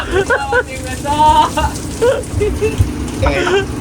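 Steady rain patters on a surface throughout during a storm while squid jigging, with people talking close by over the hiss of the downpour.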